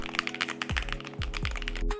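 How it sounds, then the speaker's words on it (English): Rapid, crisp keystrokes on an Akko YU01 resin mechanical keyboard, close and clear, with a few deeper thocks as keys bottom out. "The sound consistency on the left and right of the keyboard are well done."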